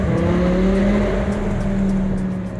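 BMW E60 M5 engine idling and revving in a steady, deep, throaty tone, close and loud, with a slight dip partway through before settling back.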